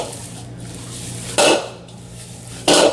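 Pork meatball mixture being worked together with barbecue rub in a bowl, a soft steady mixing rustle broken by two sharp clinks of utensil against dish, with no voices.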